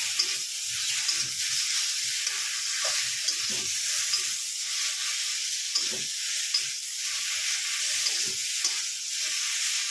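Okra fries with fenugreek seeds over raised heat, a dense steady hiss of sizzling oil with occasional soft stirring knocks underneath, close and even throughout.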